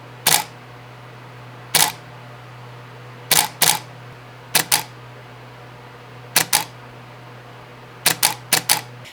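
A camera shutter set to a slow speed of around 1/15 to 1/30 second fires in repeated crisp clicks, singly and in quick pairs, each with a brief two-part snap, close and clear over a faint steady hum.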